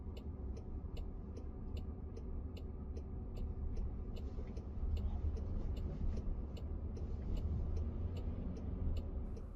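A Waymo driverless car rolls down a very steep ramp at a depot, giving a low, steady road rumble inside the cabin with a faint regular ticking over it, quiet and without speech.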